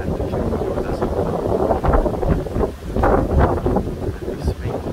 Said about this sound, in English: And this wind is messing everything up for us.